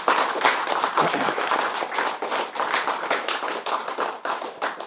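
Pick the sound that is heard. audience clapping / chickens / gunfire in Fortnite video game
audience clapping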